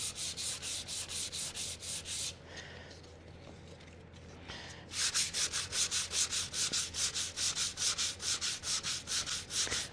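Fine sandpaper rubbed by hand over a Lambretta scooter panel in a cold garage, in loud, rhythmic back-and-forth strokes that pause briefly midway and then resume at a faster, steady pace.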